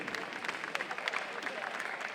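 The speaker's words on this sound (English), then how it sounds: "Let's start Carrie off with a big round of applause, everybody" Audience applause at a MOVEE 2016 event at Marietta College welcoming Carrie Ankrum, a steady patter of many hands clapping for about two seconds at moderate volume, with a voice or two mixed in.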